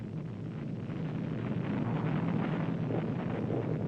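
A GAMBIT satellite launch rocket engine fires with a steady, rumbling broadband roar like heavy wind, moderately loud and unbroken, with no voices.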